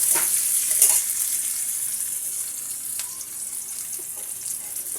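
Chopped onion and garlic sizzle in hot oil in a pan, a steady bright hiss that stays even throughout with a few faint clinks, heard close with no talking.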